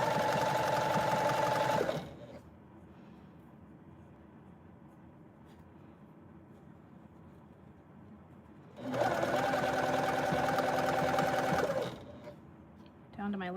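A sewing machine stitches elastic onto mesh in two loud, fast, whirring bursts of a couple of seconds each, with a quieter stretch between them where someone speaks softly.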